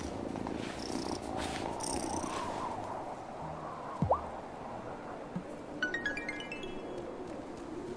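A cat purrs softly and steadily in the life-sim game Wylde Flowers, a low continuous rumble with faint game chimes and a brief whistle-like tone over it, no talking.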